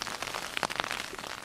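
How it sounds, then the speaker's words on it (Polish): Rain falling on a tent during a trip in Norway, heard from inside: a dense, steady patter of drops drumming on the tent fabric, close and continuous, with a few louder individual hits. "a to co słyszycie, to jest deszcz, który pada i wali o mój namiot"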